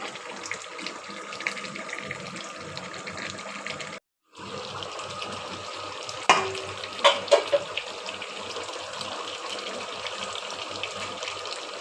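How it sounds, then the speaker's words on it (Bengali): Beef being stir-fried in a pot for a Mezban-style curry, a steady wet sizzle and bubbling hiss at moderate level, briefly cut off, then resuming with a few sharp clinks of a spoon against the pot. "এই তো কষানো হচ্ছে।"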